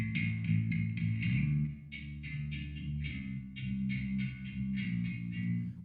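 Wet-only reverb return on a separate mix channel for Nina Simone's Feeling Good, a washy, sustained tail smearing repeated brassy horn-like swells over a low bass bed, with no dry signal heard.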